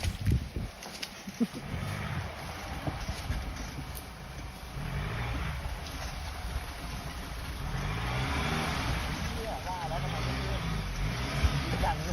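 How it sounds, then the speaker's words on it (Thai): A Ford Raptor pickup reverses slowly down into water at Hup Ka Hang, its engine a steady low rumble mixed with water sloshing and wind noise. "เดี๋ยวจะลองเอาบูบูถอยหลังลงไปวัดน้ำดูหน่อยครับ"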